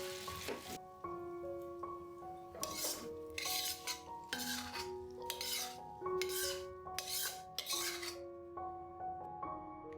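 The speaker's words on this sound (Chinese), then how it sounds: "关火，把豆干盛出来。" Dried tofu pieces are scooped out of a wok for a shrimp, chive and dried tofu stir-fry. A spatula scrapes and rasps against the metal in repeated short strokes, fairly quiet under steady background music.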